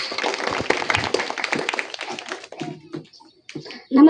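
Applause from an outdoor school crowd at a village primary school Independence Day program after students' lezim dance, dense clapping for a couple of seconds that thins and fades, followed by scattered sounds and a voice.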